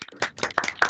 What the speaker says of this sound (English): So everyone unmute and clap.